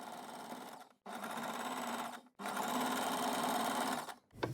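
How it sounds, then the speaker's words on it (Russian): A sewing machine stitching patchwork fabric runs in three steady whirring bursts separated by brief stops, close and fairly loud. "Делаю закрепочку и пошла строчить."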